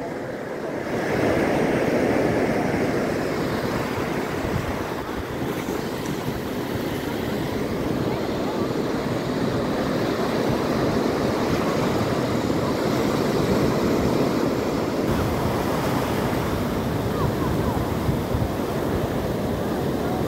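Continuous surf rolls and crashes on the shore at Torrey Pines Beach, San Diego, mixed with steady wind buffeting the microphone, loud and unbroken throughout.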